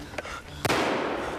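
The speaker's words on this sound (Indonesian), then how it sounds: "Tiba-tiba tembakan seorang tentara Jerman mengenai punggung Sersan Greg dan juga Boston." Gunfire from a German soldier in a war film, heard as a sharp loud burst partway through, followed by sustained noisy rumble; a fainter pop comes just before it.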